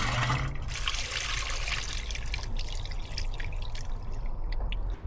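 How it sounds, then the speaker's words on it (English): A toilet in an underground basement bunker flushes, draining toward a septic tank. Close water rushes and trickles steadily for several seconds, then tapers off, with no talk. "when we flush the toilet,"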